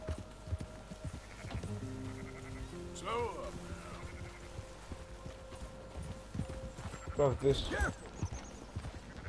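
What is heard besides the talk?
horses' hooves and neighing in video game Red Dead Redemption 2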